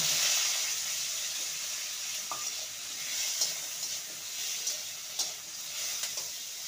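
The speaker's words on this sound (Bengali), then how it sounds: "এবারে আমি একটা মিডিয়াম সাইজের টমেটো নিয়েছি, টমেটোটাকেও একটু 2 মিনিট ভেজে নেব।" A medium-sized tomato frying in mustard oil in a wok, a steady hissing sizzle throughout with occasional louder pops and spatters, no voices.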